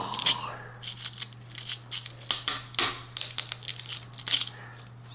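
A hard, tough rattlesnake rattle cut in half with a blade, heard as a string of close crunching, snipping clicks over a steady low electrical hum, with faint background voices.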